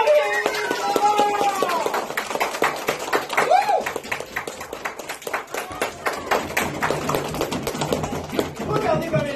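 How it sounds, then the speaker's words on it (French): A class of fourth-grade pupils claps for a visitor in a school classroom: a dense, fast patter of hand claps running throughout, mixed with excited voices, shouting and speech. "On applaudit Marie!"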